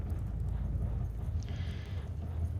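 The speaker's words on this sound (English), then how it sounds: "we'd be hearing clompity, clompity, clompity." Horse hooves clip-clop steadily through continuous background ambience at a Western-themed tabletop game session, a soft unbroken stream of low thuds with no talk in between.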